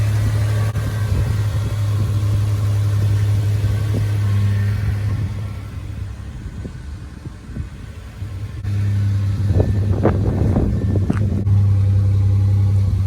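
A 2002 Toyota 4Runner engine idles steadily up close with a deep, constant hum, briefly dipping before settling back; faint clicks and handling noises sound near the end.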